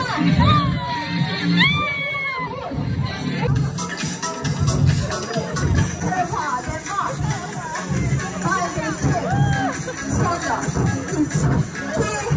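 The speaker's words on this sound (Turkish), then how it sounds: "Bence bağırıldı." A large crowd at a university spring color festival and concert shouts, whoops and cheers loudly and continuously, with high excited yells and some nearby talking mixed into the din.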